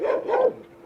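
Blind dog barking or yipping in a backyard with a pool, two short close bark-like calls in quick succession followed by a brief pause.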